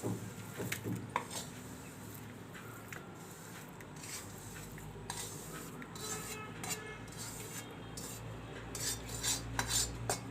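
A thick mohanthal mixture is scraped from a pan into a ghee-greased plate, giving faint, scattered metallic clinks and soft scrapes of the utensil against the vessels, spread sparsely over about ten quiet seconds.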